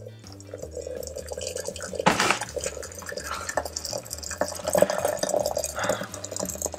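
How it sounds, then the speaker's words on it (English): Boiling water being poured into a teapot over tea bags, a gurgling, splashing stream with a burst of louder splashing, close and fairly quiet, with soft background hum. "Pour on the boiling water."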